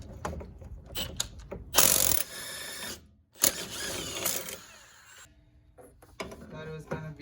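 A 13/16 socket ratchet works on a strut link bolt of a 2013 Chrysler 300, giving close bursts of clicking pawl ticks separated by pauses and scraping metal handling sounds.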